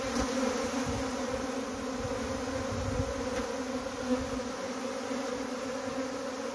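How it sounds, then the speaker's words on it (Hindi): A swarm of Himalayan honey bees gives off a steady, dense buzzing around a hive with the queen caught in a queen gate. The drone is continuous and even, fairly close, and no voices can be heard. "तो बड़ा मुश्किल हो गया मधुमक्खियों के साथ, पहला स्वार्म"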